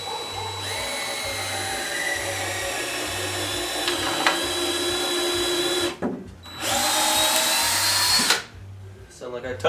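A power drill drives a screw into a wooden shed ramp, whining loudly and steadily with a low pulsing hum. The motor stops briefly, restarts, then cuts off near the end.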